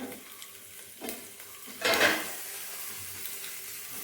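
Sliced onions fry over a low flame in a pan. A soft sizzle runs throughout, with a few stirring scrapes and one louder clatter near the middle.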